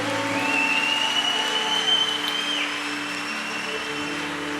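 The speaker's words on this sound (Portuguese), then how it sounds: "Aplauda ao Senhor" Congregation in a church clapping in a steady, sustained wash of applause, with a sustained tone from music or a microphone running underneath.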